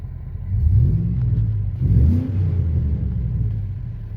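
A Chevy truck engine rumbles low and steady, revving up twice with a deep, throaty note through a 3.5-inch single exhaust, close by.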